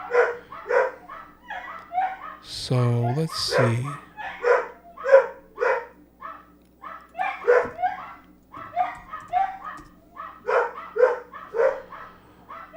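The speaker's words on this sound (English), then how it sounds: "Apologies again if my dogs are going crazy and you can hear it." Several dogs bark and yip repeatedly in rapid, overlapping bursts throughout, fairly close indoors, with a voice speaking briefly over them.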